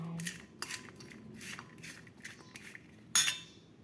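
Spoon stirring boiled peanut chaat with lemon juice in a bowl, a series of soft scraping strokes in an irregular rhythm, ending in one sharper metallic clink, close and fairly quiet.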